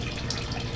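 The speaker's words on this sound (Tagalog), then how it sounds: "So nagpa-overflow tayo ng tubig direct from Nawasa, pero konti lang" Municipal tap water pours steadily from a hose into a backyard fish and crayfish pond, a soft continuous wash of running water with no voices.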